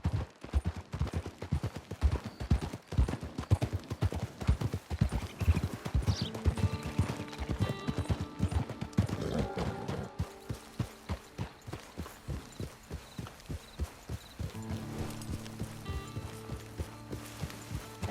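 Horse hooves clip-clop steadily in the video game Red Dead Redemption 2, a continuous rhythmic trotting gait, loud and close, blending with layered game score and ambient sound toward the end.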